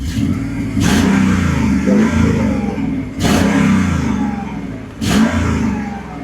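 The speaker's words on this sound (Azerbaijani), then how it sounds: "İndi sport rejimdədir maşın, bir dənə də belə qulaq asaq səsinə." In sport mode, a Mercedes CLS with a naturally aspirated M113 engine gives three sharp, loud throttle blips over a steady rumbling idle, heard up close with no talking.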